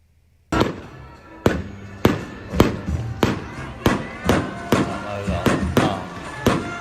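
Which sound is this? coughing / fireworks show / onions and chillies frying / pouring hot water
fireworks show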